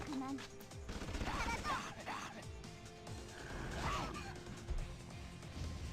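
Rapid fire combo attacks in the video game Gate Six: Cyber Persona, a dense wash of game effects and shots running continuously beneath someone speaking.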